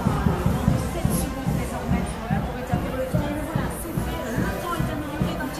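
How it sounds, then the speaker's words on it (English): A large crowd gathered at the Tour de France stage start in Cholet, France, a steady murmur of many voices close by, with a rhythmic thumping underneath and people talking nearby. "Right into this major crowd."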